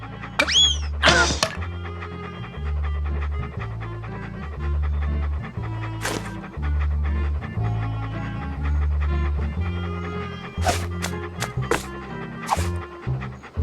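A dog in the video game Monkey Island 2 pants in rapid, rhythmic rasping breaths over looping game music, broken by a few sharp effect sounds and brief squeaky noises.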